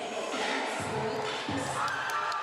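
Sacred Heart Cathedral's school cheering section roars and chants from the stands at a volleyball match, a dense, sustained crowd noise with two sharp bursts of louder shouting.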